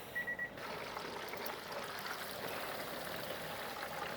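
Turkey juices drain from a roasting pan in a steady, soft trickling stream, heard close up after a brief faint beep at the start.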